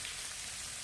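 Tomatoes hitting a hot frying pan, a steady dense hiss of sizzling oil, close and even throughout a brief moment with no voice.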